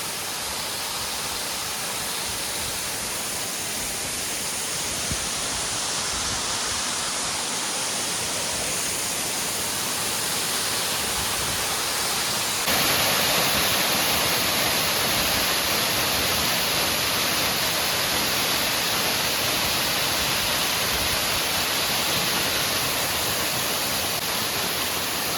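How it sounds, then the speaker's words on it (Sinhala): Opalgala waterfall, a steady broadband rush of falling water, constant and fairly loud throughout with no voices. "මේක තමයි මේ ඕපල් ගල ඇල්ල කියලා අපි සෑහෙන මහන්සියෙන් හොයාගෙන ආපු දිය ඇල්ල"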